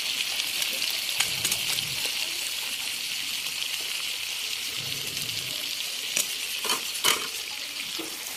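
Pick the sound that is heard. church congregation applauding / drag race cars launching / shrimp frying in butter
shrimp frying in butter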